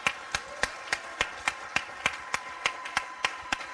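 Church congregation at an evangelism service clapping in a steady, even rhythm, about three claps a second, moderately loud with no one speaking.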